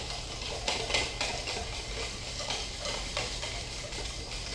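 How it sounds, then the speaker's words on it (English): Whisking a three bean salad dressing in a bowl: a steady, busy scraping and ticking of the whisk with a few louder strokes, close and continuous, no voices. "Let's whisk this together."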